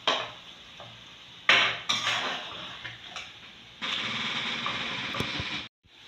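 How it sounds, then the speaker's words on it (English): Beef empanada filling fries in a pan, a steady broadband sizzle with bursts as it is stirred and scraped, loudest in the final seconds before cutting off. "I'm going to fry it until the color changes."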